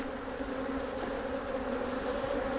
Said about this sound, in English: Now we need another frame of bees in here.